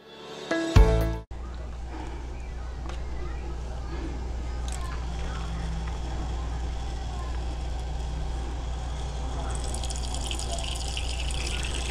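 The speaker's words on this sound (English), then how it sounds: "So you measure your distilled water" Distilled water poured into a beaker while mixing a foaming hand soap with glycerin and essential oil. A brief clink opens it, then a steady, close liquid rush continues throughout.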